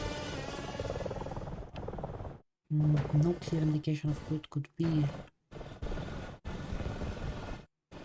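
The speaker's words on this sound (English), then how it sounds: "Schwarzenheim has deployed another helicopter to try to scout, gain advantage." A helicopter in a multiplayer military video game match gives a steady rotor drone under a commentator's voice, cutting out in a few brief gaps.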